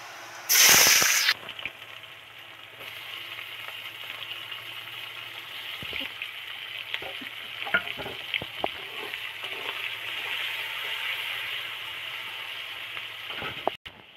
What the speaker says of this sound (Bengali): এবার পেঁয়াজটা এর মধ্যে উঠিয়ে দেব